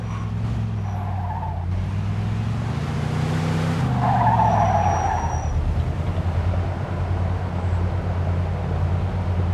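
A car in the video game Mafia II drives through a gate into a yard. A loud, close engine revs and shifts pitch while the tyres skid and squeal, and no one speaks.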